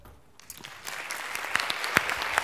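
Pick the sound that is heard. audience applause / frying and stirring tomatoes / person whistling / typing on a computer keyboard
audience applause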